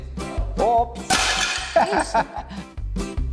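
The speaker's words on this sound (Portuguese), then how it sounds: "quando você joga de boca para baixo, né, ele espatifa e fica" A plaster object thrown upside down on a TV show smashes with a sudden, loud crash and scattering debris, set against music with a rhythmic beat.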